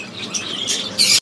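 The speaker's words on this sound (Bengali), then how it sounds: "দেখতে পাচ্ছেন এখানে একজন সান কুনুর আছে" A sun conure gives a brief, shrill call up close, with chattering notes that build into a piercing screech before stopping suddenly.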